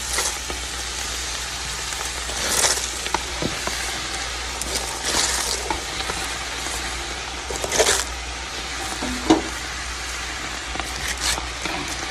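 Cabbage cooking down in a hot pan hisses in a steady, rain-like sizzle, with occasional louder bursts and a light knock, with no talking.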